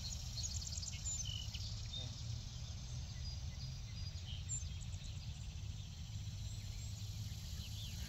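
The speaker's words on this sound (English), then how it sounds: "you've got areas for bugs and birds, and I mean, just listen to that" Outdoor orchard ambience in New York with a steady insect drone and scattered high bird chirps, faint and distant, with no talking.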